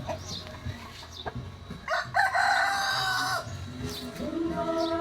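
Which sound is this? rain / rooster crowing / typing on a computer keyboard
rooster crowing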